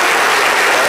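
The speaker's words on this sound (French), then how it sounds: "On l'applaudit bien fort." Loud, dense applause from a studio audience on a French-language television talk show, a steady wash of clapping filling the whole brief moment with no voices on top.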